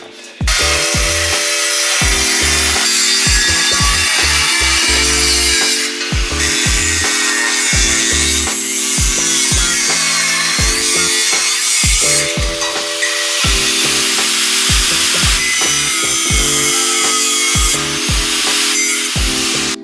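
A power cutting wheel shapes metal parts for a Honda CB650 bobber build, grinding loudly and close in repeated bursts with short pauses between passes, harsh and continuous with no talk.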